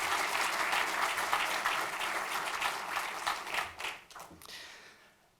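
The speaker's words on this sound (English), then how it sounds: "So can you please give them a round of applause?" Round of applause at a hall of fame banquet honoring a baseball player, a large crowd clapping strongly and steadily before it thins out and fades near the end.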